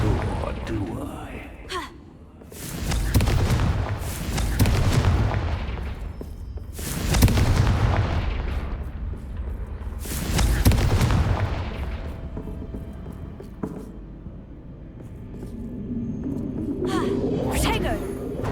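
Confringo fire-blast spells in Hogwarts Legacy go off as three loud, booming bursts a few seconds apart, each swelling and fading. Breathy vocal gasps and grunts sit between them, and another blast begins at the end.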